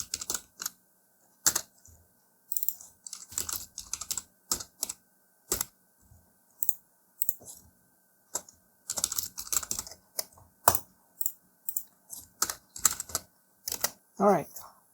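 Bursts of close keyboard typing clatter across the clip as text is entered into a signup form on a computer keyboard, with irregular clusters of keystrokes separated by brief pauses and a short voice near the end.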